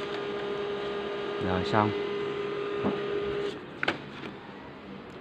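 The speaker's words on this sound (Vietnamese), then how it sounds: "Máy in nhận lệnh cũng tương đối nhanh các bạn ạ" HP Pro M15a laser printer running a page, a steady mechanical hum with a constant whine, a few clicks and whirs as the sheet feeds through, close by, ending with a brief spoken comment.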